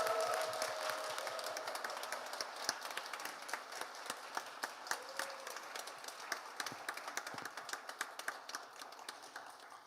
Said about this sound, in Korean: 나오실 때에 우리 큰 박수와 환호성으로 맞이하도록 하겠습니다